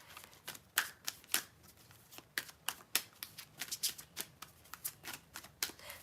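Tarot cards being shuffled for a reading, a quiet run of crisp riffling bursts and soft slaps in an irregular rhythm, close up with no talking.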